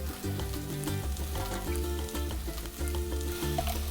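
Minced garlic sizzling in a hot pan with sweated-down onions, a continuous close, crackling fry that stays steady and loud for the whole few seconds, with no talking.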